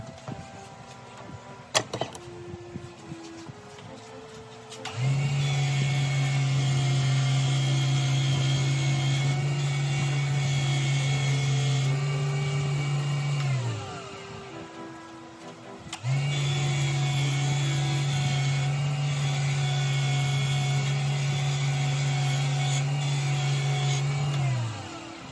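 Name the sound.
buffing wheel running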